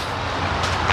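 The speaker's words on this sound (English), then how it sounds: "I can hear the traffic coming off the mountain" Road traffic coming down off a mountain about a mile away makes a steady, low rumbling hum with a faint passing swell, heard at a distance on an outdoor walk.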